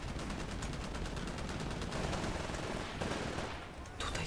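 In a Titanfall capture-the-flag match, weapons fire in rapid automatic bursts, a dense chatter of shots that keeps going with a brief lull near the end and no talking.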